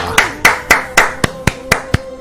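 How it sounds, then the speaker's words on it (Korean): Eight sharp claps in a steady, evenly spaced rhythm, close and fairly loud, with no voices over them. "다 같이 응원의 박수를 한번 보내주시길 바랍니다"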